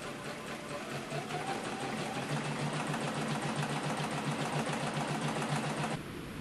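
Sewing machine stitching a seam in artificial silk for a wrap skirt, a steady close mechanical whir with rapid needle rhythm running continuously for about six seconds before easing off.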